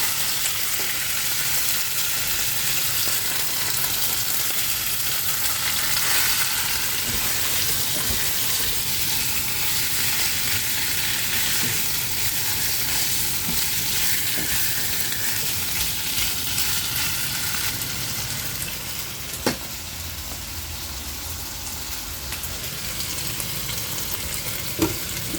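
Bitter melon and eggs sizzle and fry steadily in a pan, a loud, continuous crackling hiss with stirring scrapes throughout and a sharp clink near the end, with no voices.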